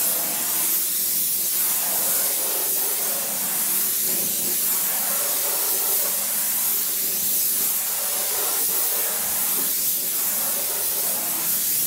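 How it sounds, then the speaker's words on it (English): An airless paint sprayer applies stain to a wooden fence, giving a loud, steady hiss throughout that swells and eases in a regular rhythm as each section is covered. "So you can see how I'm spraying it on, just doing a section about this much"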